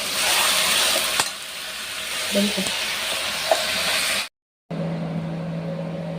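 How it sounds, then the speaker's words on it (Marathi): Minced mutton kheema frying in an open pan, a continuous loud sizzle with scraping stirs and occasional clinks, briefly cutting out to silence before the frying resumes. "याच्यामध्ये दोन तीन मिनटासाठी चांगला फ्राय करून घेऊया"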